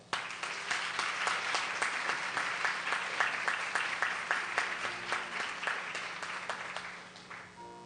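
Seminar audience applauding, a sustained burst of many hands clapping in a hall, steady and fairly loud for several seconds before tapering off at the end, with no speech over it.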